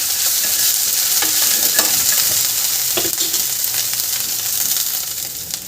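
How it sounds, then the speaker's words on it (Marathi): Ginger, garlic and chili paste sautéing in a pan, a steady close sizzle with light stirring scrapes and occasional clinks of the spoon against the metal throughout. "ही छान परतून घ्यायची आपल्याला थोड्या वेळ"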